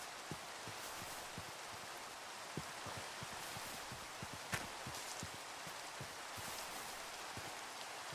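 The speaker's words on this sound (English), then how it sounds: "Here's the rain, finally." Steady rain falls in a modded video game during a storm, a quiet, even hiss broken by scattered drop taps, with no voices.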